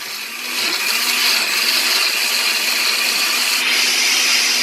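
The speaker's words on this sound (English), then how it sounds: "now that we're going to start blending it" A blender whirs steadily at close range blending chili and water, a dense, continuous motor grind that ramps up in the first half second and holds.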